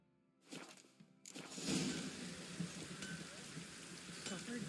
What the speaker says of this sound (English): Proper downpour this is.